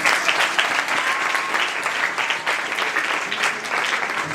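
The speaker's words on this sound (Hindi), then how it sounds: "मैं चाहूँगा कि जो टीचर्स इनको सिखा रही हैं हम उनके लिए जोरदार तालियां दें।" An audience at a worship night in Pakistan applauds, a dense, steady burst of clapping from a crowd that stays loud throughout.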